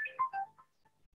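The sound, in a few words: telephone ringing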